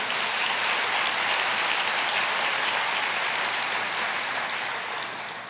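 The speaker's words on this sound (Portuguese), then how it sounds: "Pode aplaudir o Senhor." A church congregation applauds together during a Portuguese-language sermon, a dense, steady roar of many hands clapping that holds evenly, then fades toward the end. No voices are heard over it.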